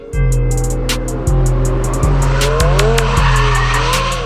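Race car tires skid and squeal loudly and continuously, with engine tones rising and falling and repeated surges as the car is pushed hard on track.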